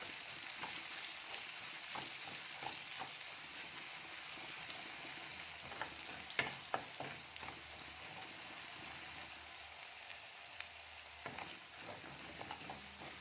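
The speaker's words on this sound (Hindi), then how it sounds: "एक कटी हुई प्याज डाल देते हैं। और इसको अच्छे से भून लेते हैं।" Finely chopped onion fries in a pan for a Rajasthani curry gravy, a soft, steady sizzle with occasional stirring scrapes and light clatter, fairly quiet throughout.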